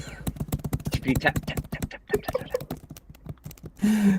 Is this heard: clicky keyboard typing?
yes